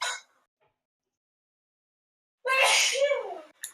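Someone sneezes sharply in a quiet room during a tabletop game session, a short burst followed by silence, then another loud sneeze-like outburst with a brief vocal tail.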